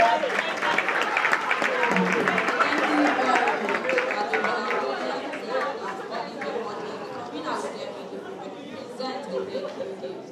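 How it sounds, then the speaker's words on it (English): A crowd applauds at a Nigerian celebrity event, clapping mixed with loud chatter and voices that slowly fade toward the end. "Please a round of applause for him."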